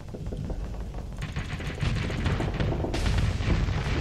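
Ship weapons firing during space combat in the Starsector game: a dense, continuous barrage of rapid booming shots and impacts, growing louder and thicker partway through, with no pause.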